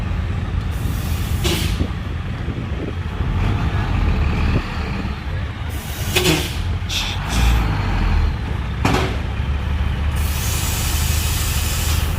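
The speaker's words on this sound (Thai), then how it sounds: "เสียงเบรกดัง" Dump truck delivering soil and stone to a temple in Chanthaburi, engine rumbling close by while reversing, with several sharp hissing air brake releases punctuating the idling drone.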